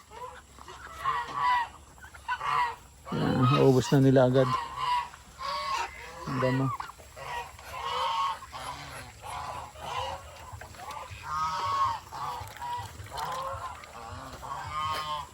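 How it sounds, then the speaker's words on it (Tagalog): A flock of geese at a farm honks in repeated loud bursts while they feed on grass they were given. Someone talks over them now and then. "yung mga gansa, binigyan ko ng damo."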